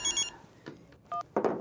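A telephone rings indoors in a comedy scene, with a few short electronic ring bursts separated by brief pauses and mixed with light background sounds.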